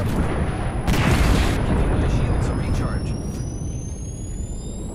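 Explosions from an airstrike in the shooter Apex Legends: a loud, rumbling boom with a sustained roar that slowly fades, while players talk over it.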